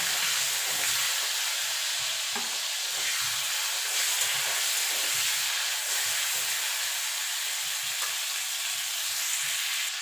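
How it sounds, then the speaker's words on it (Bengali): Prawns frying lightly in hot oil in a home kitchen, a steady, even sizzle and hiss that carries on unbroken throughout, with no talking. "এবার চিংড়ি মাছটা ভেজে তুলে নেব।"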